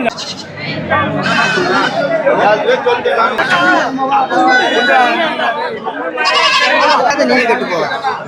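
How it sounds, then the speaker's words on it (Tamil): Sheep bleat repeatedly at a busy goat and sheep market in Ranipettai, their calls overlapping with steady crowd chatter and people talking close by. "இந்த ஆடு பார்க்கறதுக்கு பொசு பொசுன்னு சூப்பரா இருக்குது செம்மறி ஆடு தானே அது"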